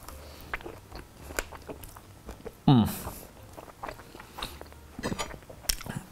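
A single crisp bite into French toast topped with syrup, yogurt and three kinds of fruit, followed by close, soft chewing and smacking, with faint background noise.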